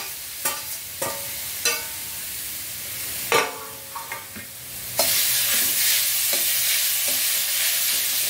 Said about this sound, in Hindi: मैंने ये जो नारियल है तीन चार मिनट के लिए पका लिया है